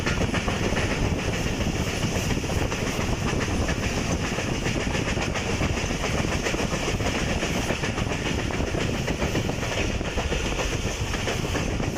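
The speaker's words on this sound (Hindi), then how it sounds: "आम के बागात के दरमियान से गुजरती हुई रेलगाड़ी" A passenger train, the Shah Latif Express in Pakistan, rolls through mango orchards with continuous rumbling and rhythmic clickety-clack of wheels on rails, loud and close throughout, no voices.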